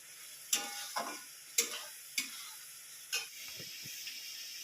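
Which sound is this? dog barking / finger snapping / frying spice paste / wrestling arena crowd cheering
frying spice paste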